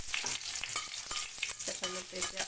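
Dry red chillies spit and crackle in hot oil, a close, steady sizzle broken by sharp pops and occasional stirring scrapes, with nobody speaking.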